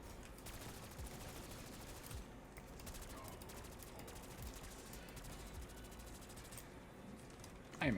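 Rapid, sustained gunfire in the video game Black Ops 2, a dense rattling stream of shots at moderate distance that runs almost continuously, with a couple of brief lulls.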